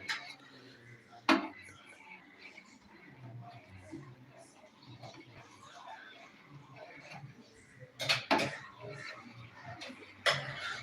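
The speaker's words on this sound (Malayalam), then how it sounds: "നന്നായിട്ട് ഇളക്കി കൊടുക്കുക നമ്മൾ പാല് ചെറുതായിട്ടൊന്ന് കുറുകിയിട്ടുണ്ട്" A spoon stirs thickening milk in a pot for homemade vanilla ice cream, with soft scraping and a few sharp metallic clinks against the pot while a voice talks quietly underneath.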